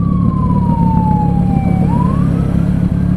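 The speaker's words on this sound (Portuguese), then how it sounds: "Ambulância com pressa, ó." An ambulance siren wails steadily over loud, constant motorcycle and traffic noise in city streets, its tone sliding down as it passes close by, then rising again.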